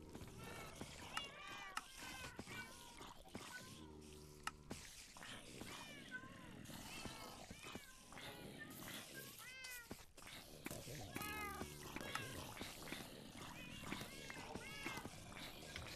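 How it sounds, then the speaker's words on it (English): Cats in a Minecraft modpack cave meow over and over, with several overlapping meows scattered throughout alongside running water and other game sounds, the calls moderately loud and fairly close. "I hear cats."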